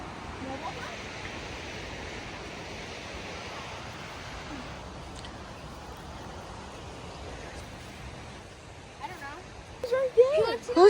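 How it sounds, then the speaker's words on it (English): A waterfall heard on a muddy family mountain hike gives a steady, broad rushing roar that holds throughout. Voices and movement break in toward the end. "Look at that waterfall. It's so beautiful here."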